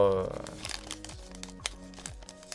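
A Pokémon booster pack wrapper crinkles and tears open in quick bursts of crackling foil, close to the mic, with a voice talking underneath.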